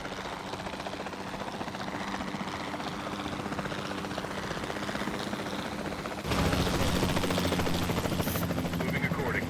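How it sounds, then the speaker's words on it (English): A capture team helicopter in Jurassic World Evolution 2 flies with a continuous rotor drone throughout, growing louder and closer in the last few seconds. "the sensible thing is to take a capture team helicopter"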